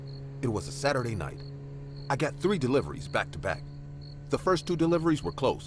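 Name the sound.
crickets chirping sound effect at night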